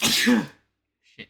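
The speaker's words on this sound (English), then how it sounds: "Bless you." A single sneeze bursts out after a pause, brief and fairly close, following a stretch of someone talking during a tabletop role-playing game session.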